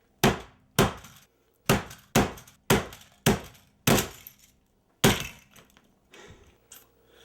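Hammer smashing things, a series of about nine loud, sharp crashing blows with glassy, splintering decays, spaced irregularly roughly a second apart.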